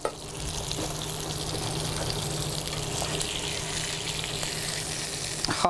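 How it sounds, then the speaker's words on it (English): Steak sizzles on a hot grill with a steady, moderately soft hiss and crackle, close and continuous, with no talking. "Going to go ahead and flip the steak."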